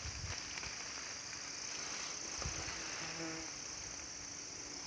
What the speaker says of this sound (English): Now I'm trying to get attacked by bees.